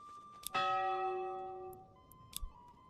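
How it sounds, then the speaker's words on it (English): A single deep church bell in the medieval village-building game Manor Lords strikes once and rings out with a long decaying hum, followed by a couple of faint clicks. "The deep sounding bells."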